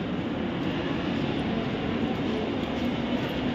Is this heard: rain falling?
no